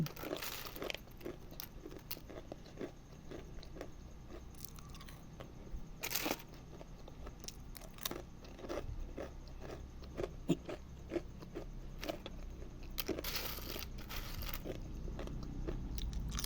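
Crunchy homemade banana chips being bitten and chewed close up, a series of sharp crisp crunches repeating irregularly over a low background hum, with no talking.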